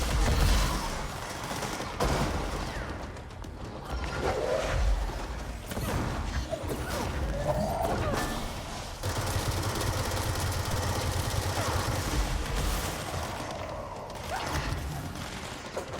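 Rockets and gunfire batter the player in the video game Control, a dense, continuous barrage of blasts, rattling shots and mechanical clatter that stays loud across the whole stretch.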